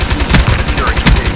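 Loud Razor gun fire in Black Ops 3: punchy automatic shots in a quick, steady rhythm through a dense close-up mix of game sound.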